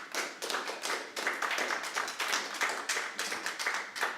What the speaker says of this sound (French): Au Parlement, ils n'ont plus le droit d'applaudir, M. Pomerleau.